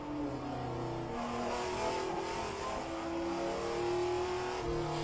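Race car engines from the 1967 Formula One season at Spa in a racing video game drone and whine continuously, pitch rising and shifting as several cars rev together, loud and steady with no talking.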